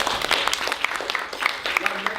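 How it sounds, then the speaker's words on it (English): Audience at a tech and social media event clapping to welcome a startup founder, with a moderate patter of applause under a speaking voice. "Let's give him a round of applause."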